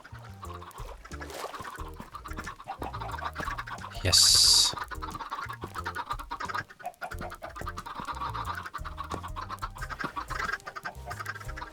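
Chickens cluck and squawk in a Minecraft Bedrock farm, with repeated short fowl calls over game noise and a brief sharp high-pitched burst midway; a voice speaks a single word.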